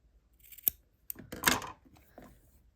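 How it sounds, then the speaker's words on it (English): Scissors trimming a small fabric overhang on a scrappy quilt block, a few quiet, close snips with light handling noise. "then I'm going to trim this little overhang here."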